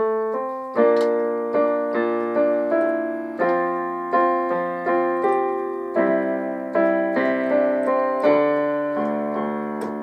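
Piano played slowly, single notes and chords of the Pirates of the Caribbean theme struck one at a time, each ringing and fading before the next, with no voices.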